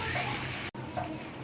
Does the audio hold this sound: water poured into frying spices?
yes